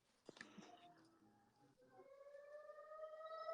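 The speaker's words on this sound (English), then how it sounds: "I'm just hearing some sirens." A siren rises and wails in the distance, its tone climbing steadily and growing louder, after a few brief clicks and faint noises at the start.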